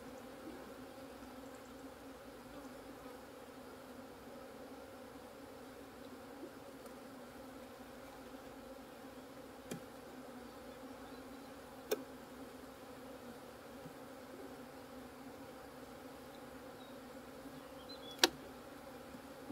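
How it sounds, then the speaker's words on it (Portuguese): Honey bees swarming around old beehives outdoors, a continuous low buzzing drone that stays steady throughout, with a few faint sharp ticks, fairly quiet and distant. "Muita abelha."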